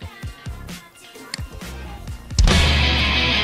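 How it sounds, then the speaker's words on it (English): An alarm goes off abruptly partway through, a loud, steady sustained tone that holds to the end after a stretch of scattered clicks and knocks. "That's my alarm."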